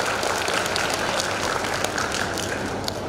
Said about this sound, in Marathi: मॅडमसाठी जोरदार टाळ्या.